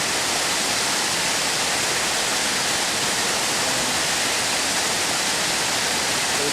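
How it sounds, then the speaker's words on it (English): Jajce waterfall, where the Pliva river plunges into the Vrbas, roars as a loud, steady, broadband rush of falling water that fills the whole clip without pause. "Jajce waterfall, which is always on any postcard about Jajce."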